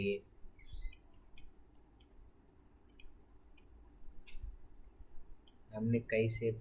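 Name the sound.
computer mouse clicking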